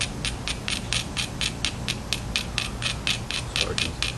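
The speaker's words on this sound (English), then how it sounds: "Not too much, just a little grinding on that platform" An obsidian flintknapping preform has its striking platform ground with an abrader, a close, regular back-and-forth rasping in even strokes of about a quarter second each, heard alone.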